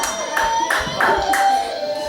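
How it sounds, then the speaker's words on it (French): An audience at a storytelling show claps in a loose, sustained round, the individual hand claps bright and close, with chatter faintly beneath. "Applaudissez-la, mesdames et messieurs."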